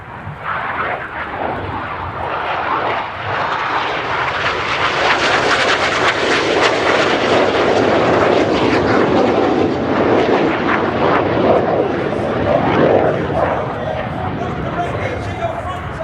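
Royal Air Force Red Arrows jets in a synchro double-roll pass at the RIAT 2024 flying display, a loud, sustained roaring jet rush that swells and holds for the whole stretch, with a commentator talking over it.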